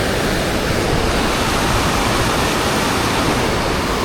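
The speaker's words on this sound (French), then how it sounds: "je pense que le cours d'eau a bien débordé" A flooded, overflowing stream rushing steadily, a loud, dense, unbroken roar of churning water close by with no pauses.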